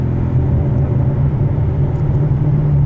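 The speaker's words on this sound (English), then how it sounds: "How loud it is. Listen to the downshifts." Loud, continuous low engine rumble from a manual 2015 Chevrolet Corvette C7 Stingray with modified exhaust, headers and cam, heard from inside the car as it downshifts, steady and close throughout with no talking.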